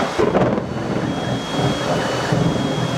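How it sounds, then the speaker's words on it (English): Close, loud thunder rumbles through a heavy downpour during a storm in China, with dense rain hiss drumming on a surface overhead throughout. "there's a lot of noise above us from this rain"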